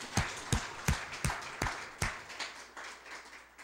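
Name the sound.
congregation applauding in church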